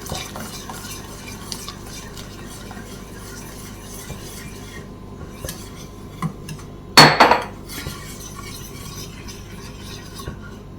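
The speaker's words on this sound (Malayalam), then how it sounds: "അത് നമുക്ക് ഇതിലേക്ക് ഒഴിച്ചിട്ട് കണ്ടിന്യൂസ് ഇളക്കാം. കട്ട കെട്ടാതെ ഇളക്കിയെടുക്കണം." A pineapple milk pudding mixture is stirred continuously in a pot, producing a soft steady scraping and swishing near at hand, with one louder clatter of the utensil against the pot midway.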